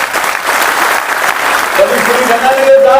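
Loud sustained applause from an audience honoring a ghazal singer at a public gathering, continuous clapping filling the space with a few brief tonal sounds rising near the end.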